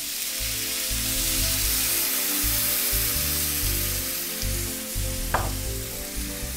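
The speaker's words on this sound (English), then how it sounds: "and I'm going to pour in the stock." Stock poured into a sizzling sweet potato curry on a wok burner, a loud, steady hiss of frying with a brief splash and bubbling mixed in, close up and continuous with no talking.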